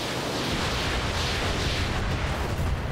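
Dense, continuous roar of a missile salvo slamming into an armored enemy mech in the RogueTech mech combat game, a sustained wall of overlapping explosions with no gaps, loud and close throughout.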